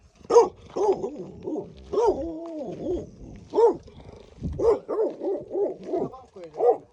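A dog barks and growls repeatedly at close range, mixing short barks with longer grumbling whines in an excited, uneven rhythm.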